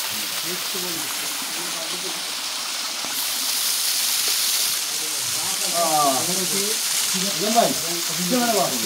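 A mountain waterfall rushing over rocks makes a constant, full-bodied roar that runs throughout, with a person talking on top of it for much of the time.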